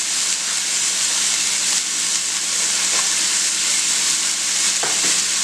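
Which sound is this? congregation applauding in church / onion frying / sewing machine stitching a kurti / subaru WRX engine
onion frying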